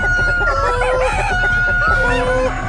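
Chickens on a farm break into loud, busy clucking and crowing, a continuous close chorus of overlapping calls with no talk over it.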